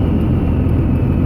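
A 2002 Cummins 24-valve diesel idling up near 1800 RPM with a knock, heard close as a loud, steady low rumble with rapid, even pulsing.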